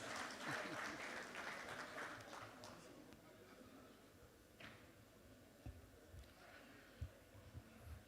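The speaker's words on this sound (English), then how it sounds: "Can we please give him a resounding applause," Audience applause at a live-streamed book event. Clapping is strongest at the start, then fades into scattered claps and a few thuds amid room noise.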